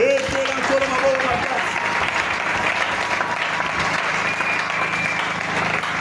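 A church congregation applauds the Lord with steady, dense clapping that fills the room, sustained and loud throughout while a voice briefly calls out at the start.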